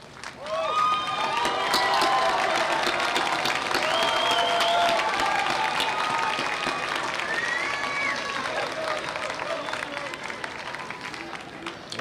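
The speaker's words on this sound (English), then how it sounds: "Please rise and applaud all those who have supported you." A large crowd at a university graduation ceremony rises and applauds continuously while voices call out and chatter over the clapping, which stays loud and gradually tapers toward the end.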